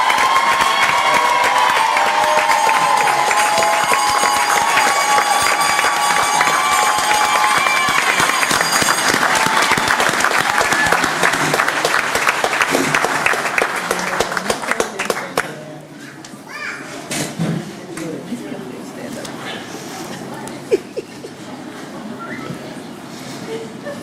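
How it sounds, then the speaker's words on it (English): Applause and cheering from a school board meeting audience honoring classified employees of the year, loud dense clapping with whoops for about fifteen seconds, then fading to scattered claps and murmur. "Let's give a big round of applause for our classified employees of the year."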